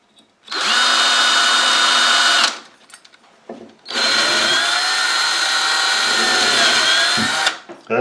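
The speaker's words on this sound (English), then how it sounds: "so I'll give it a little more drill." A power drill loudly whines through two sustained bursts while boring a rivet hole, with a brief pause and a few small clicks and knocks between them.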